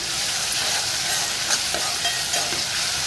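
Onion, tomato, green chili and garlic, with mustard seeds and cumin, frying and being stirred in a pan for a rural vegetable curry; a steady close sizzle with light scraping from the stirring, no voices.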